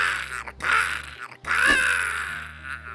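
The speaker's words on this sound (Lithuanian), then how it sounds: "Varna karktelėjo stipriau" Loud, harsh caws from a crow in an animated cartoon fable, two drawn-out calls separated by a brief gap, close and prominent over a faint background music bed.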